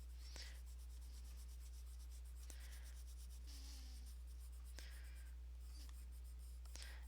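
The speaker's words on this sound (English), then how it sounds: "I'm just going to go over the whole thing with the blender stick, make sure it's all blended together nice and perfect here" A blender stick rubs over colored, stenciled paper in soft repeated scratchy strokes, faint and close against a steady low hum.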